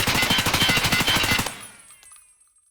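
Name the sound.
assault rifle gunfire in the video game Escape from Tarkov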